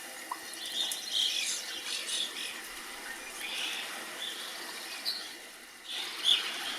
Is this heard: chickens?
no